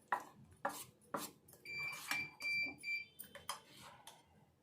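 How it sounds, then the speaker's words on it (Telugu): A ladle scrapes and knocks against a pot while mashing a potato and grated coconut mixture, a series of quiet irregular clinks and scrapes with a few brief ringing tones in between. "ఇదంతా కూడా ఒక గరిటె తీసుకొని మంచిగా కలుపుకోవాలి"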